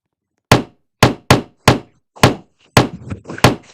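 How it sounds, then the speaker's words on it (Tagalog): Seven sharp hammer blows from a video game land at an irregular pace, each a crisp knock with a short ringing decay, in an otherwise silent space. "Bakit parang may pinupukpok siya doon?"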